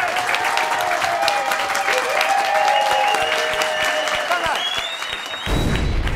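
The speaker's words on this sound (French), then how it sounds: "Alors testons les applaudissements immédiatement." Loud studio audience applause, a dense steady wash of clapping that fills the room for several seconds before it cuts off abruptly.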